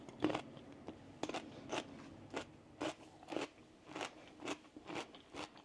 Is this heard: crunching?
yes